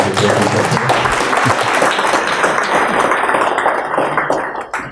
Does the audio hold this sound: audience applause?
yes